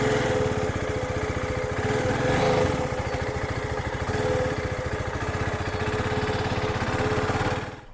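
A Hyosung GD250R motorcycle engine runs steadily throughout a test ride, a loud, close, pulsing mid-pitched drone that rises briefly and fades at the end.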